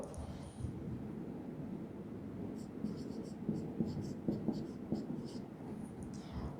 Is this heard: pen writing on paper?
yes